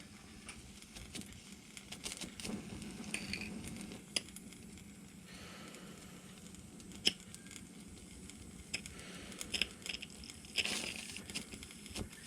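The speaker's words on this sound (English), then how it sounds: "We can hear it starting to sizzle." Steady crackling and sizzling hiss from a miniature LBSC steam engine's boiler, with scattered sharp pops and ticks, close and fairly quiet, no voices.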